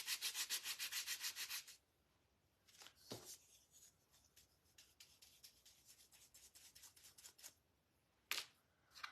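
Close, rhythmic back-and-forth sanding strokes on a rattan pumpkin decoration open the clip, followed by quieter scattered rubbing and scraping and one last brief burst of strokes near the end.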